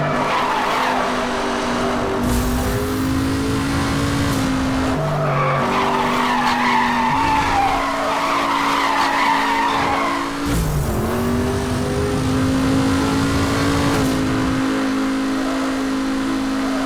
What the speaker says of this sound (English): Yup, got the brake drifting right.